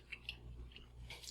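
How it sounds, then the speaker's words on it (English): Soft, close biting and chewing on crunchy sweet potato bacon hushpuppies, a few quiet crunches and squishy chews at low level with no talking. "I'm going to go ahead and take a bite and make sure that these turned out good"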